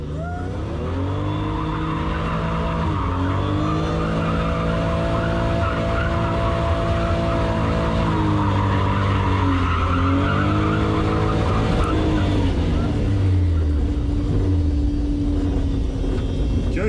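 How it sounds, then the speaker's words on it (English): Toyota Soarer drift car warming its tires, a loud sustained engine drone with shifting, wavering pitch and tire squeal rising and falling through a long continuous run. "Giving the tires a bit of a warm-up."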